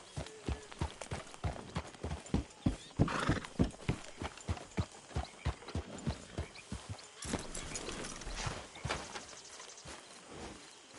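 A horse in Red Dead Redemption 2 canters and gallops with steady, rhythmic hoof clip-clops, close and clear, with a whinny partway through and faint game ambience behind.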